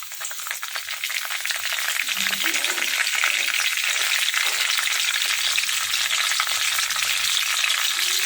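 Curry leaves spluttering in hot oil for a Telugu raw-banana pulusu curry, a dense, steady crackling sizzle that runs loud and continuous throughout with no talk over it.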